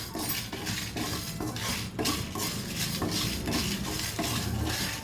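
Dried chillies dry-roasted in a pan without oil, the spoon repeatedly scraping and rattling against the metal in rhythmic sweeps, close and steady, with no one talking.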